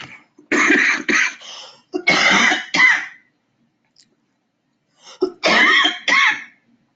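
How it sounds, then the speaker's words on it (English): A few harsh coughs and throat-clearing bursts in close succession, a pause, then another pair of rough coughs, all close and fairly loud. "I have some cough going on."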